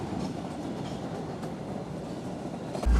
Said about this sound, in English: let's get on my train and witness this from the inside